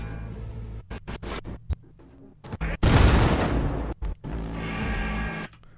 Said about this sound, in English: Grenades go off on time.